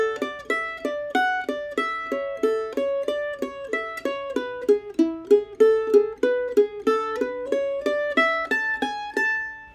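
A solo mandolin picks the B section melody of Huckleberry Hornpipe, a quick, even stream of bright, clear notes played up close with nothing else heard.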